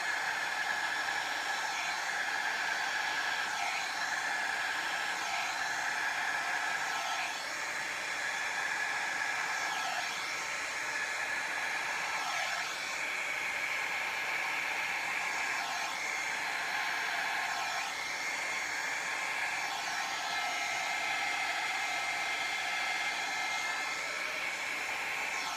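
Steady hiss of air blown over a resin Dutch pour, a continuous broadband whoosh with slow swells and dips as the airflow shifts, close and fairly loud, with no voices.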